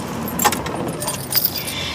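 Car keys jangle in a couple of quick metallic bursts, close and clear against a quiet indoor background with no talk.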